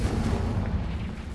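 Explosion from a blasting spell in the video game Hogwarts Legacy, a brief dense low rumbling blast that stays loud and fades only slightly over its short span, with no voices.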